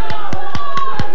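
Five soft, slow, evenly spaced hand claps make a quiet golf clap over a steady tonal background hum.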